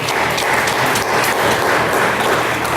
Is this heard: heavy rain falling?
no